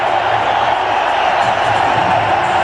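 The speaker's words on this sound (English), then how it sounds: "Acknowledging the applause of the dressing room and the crowd" A cricket crowd applauds Dhoni reaching his fifty for India against Australia in a one-day match, a dense, loud, continuous wash of clapping and cheering filling the stadium.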